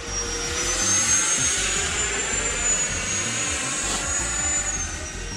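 An FMS Rafale 80mm electric ducted-fan RC delta jet flying in high alpha, a steady loud whooshing whine with a high sustained tone that gently rises and falls, heard alone.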